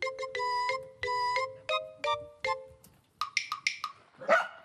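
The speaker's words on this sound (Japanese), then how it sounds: "あ、ワンちゃん。" A cartoon dog barks in a Japanese educational program for babies, a string of bright, tuneful woofs followed by quicker, higher yips, close and clear with no talk.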